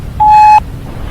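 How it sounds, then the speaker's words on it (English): A single steady electronic voicemail tone sounds for under half a second, clean and fairly loud, over a faint background hiss before and after. "At the tone, please record your message."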